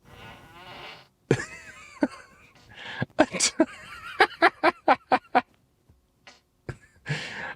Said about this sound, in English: This is a whoopee cushion, and you can put it in different locations